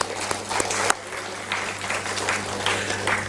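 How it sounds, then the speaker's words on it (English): At a conference valedictory, an audience breaks into a short round of applause, with dense clapping and a few sharper individual claps standing out nearby. "give a big clap to them"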